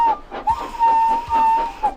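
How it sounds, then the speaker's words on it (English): A train engine's whistle in a Thomas the Tank Engine story, a clear steady tone sounding in several drawn-out blasts with short breaks, fairly loud and close over faint background. "Suddenly, he heard an engine whistling."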